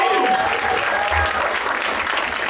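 An audience claps at a Teacher of the Year awards banquet, with sustained, even applause from a full room filling the moment, fairly loud and steady throughout.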